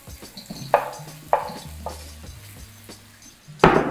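Shrimp land in a hot pan with peppers and oil and sizzle steadily, with a few sharp clatters and stirring knocks as they hit the pan and get tossed.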